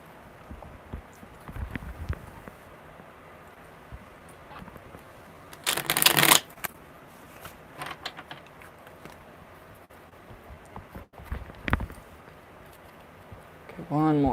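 Tarot cards shuffled in the hands at a live reading, one dense burst of riffling near the middle, with soft handling taps and rustles scattered before and after, close and fairly quiet.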